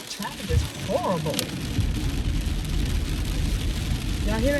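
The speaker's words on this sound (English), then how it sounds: "Y'all hear that rain?" Heavy rain pours onto a car while it is being driven, a dense, steady hiss drumming on the roof and windows, with a voice speaking briefly over it near the start.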